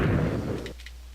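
A Minecraft explosion in the Beta 1.8 update, a loud, close, broad booming burst that rumbles for most of a second and then cuts off to quiet.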